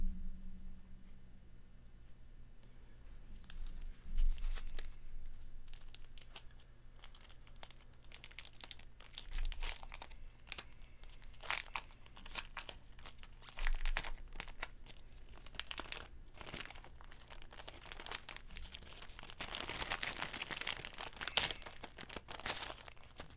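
Paper packaging is unwrapped and crinkled while a tabletop naval miniatures starter set is unboxed: close, irregular rustling, crumpling and tearing that starts quietly and grows denser and louder over twenty-odd seconds.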